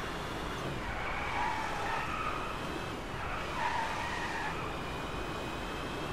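A Mercedes SLS AMG Coupe Electric drifts in the racing game DRIVECLUB, its tires squealing in long repeated skids over a steady electric motor hum, with no voices.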